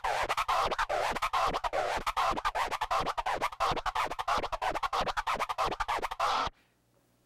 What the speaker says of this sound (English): It's called the orbit. It's pretty much a 2-click flare